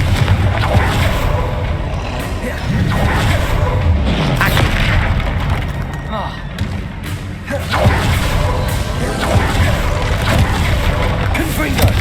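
Repeated booming blasts of the Confringo fire spell in the video game Hogwarts Legacy, heavy explosive thuds following one another over continuous loud game noise.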